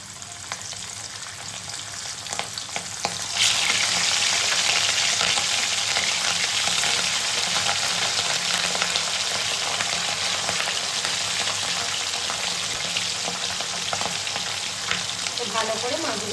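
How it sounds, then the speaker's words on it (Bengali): Pieces of katla fish drop into hot salted oil, and a loud, dense sizzle jumps up and then keeps crackling steadily, close and alone. "এবার আমি একে একে মাছগুলো ছেড়ে দেবো।"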